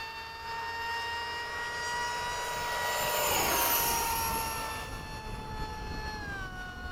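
A jet aircraft in formation with an F-15, F-104 and Hawk at Bayside makes a low pass, its whining roar swelling steadily to a loud peak mid-way, then dropping in pitch as it fades.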